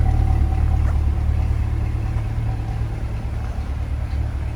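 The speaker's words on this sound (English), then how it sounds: "What an awesome sounding machine. Just a great, great exhaust tone to it." A 2020 Chevrolet Corvette Z51 convertible with 1LT trim idles from behind, a deep steady rumbling exhaust with a strong low drone, loud and close and unbroken, with no voices over it.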